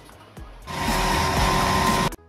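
An oil mill machine grinding mustard seed for mustard oil starts up with a rising whir. It then runs as a loud, steady mechanical drone for about a second and a half and cuts off abruptly.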